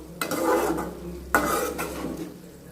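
Grated coconut sautés in ghee for a coconut burfi while a spoon scrapes and stirs it in the pan, with two scraping sweeps over a low, steady background.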